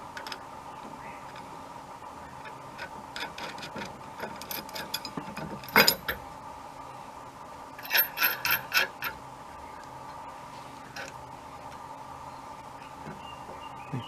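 A ratchet tightens the nut on a trailer hitch tightener in short bursts of quick clicking, with a steady mechanical hum behind it and brief clatters, close and moderately quiet.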